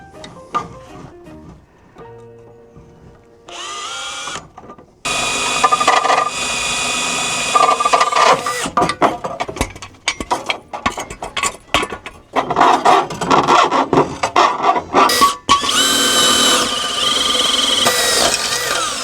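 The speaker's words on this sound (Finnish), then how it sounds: "Poraamme tuonne lattiaan, tonne johonkin reijän." A power drill bores a hole into a car floor to mount a threaded rod for an exhaust pipe, with bursts of whirring and grinding, pauses and metallic clinks, close and loud.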